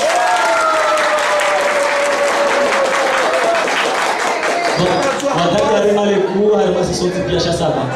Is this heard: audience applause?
yes